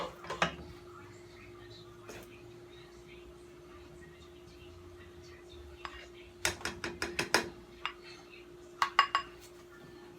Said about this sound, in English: Put some rice in the bottom of the bowl.